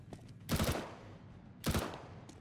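Two short bursts of M4 rifle fire in a Counter-Strike style game on the map de_prodigy, each a quick rattling volley of shots, moderately distant and fairly faint, with quiet game ambience between them.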